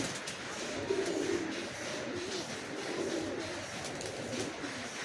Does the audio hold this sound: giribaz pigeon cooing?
yes